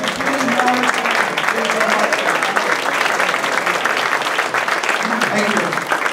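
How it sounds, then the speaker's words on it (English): Audience applause at a school district State of the District event, a steady dense clapping that fills the whole stretch with some murmuring voices mixed in beneath it. "applause."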